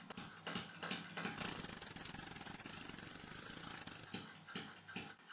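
A small engine powered by liquid air runs steadily with a dense, rattling mechanical chug, nearly stalling several times before reversing direction as its tank pressure drops; close and moderately loud, with no talk.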